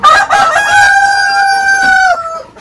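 A heritage Rhode Island rooster crows once, loud and close, a single drawn-out cock-a-doodle-doo of about two seconds that trails off, with no talking.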